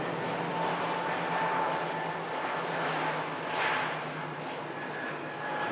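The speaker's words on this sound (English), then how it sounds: "Here's the Stockholm Scandinavian on the takeoff roll from 2-3 left." A Scandinavian airliner from Stockholm on its takeoff roll from runway 23 left, heard as a steady, broad jet roar at a distance that swells slightly midway, with no talk over it.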